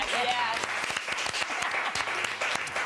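Studio audience at a TV talk show breaking into steady applause, dense clapping filling the whole moment, loud and close with a voice faintly underneath.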